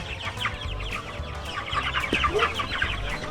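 Several chickens cluck and murmur nearby in a continuous, overlapping chatter, with a low background rumble underneath.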